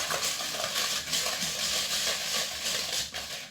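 Butter being mixed into the other ingredients for eggless sablé cookie dough, a continuous scraping and stirring texture with soft rhythmic swishes, close and moderately quiet, with no talking.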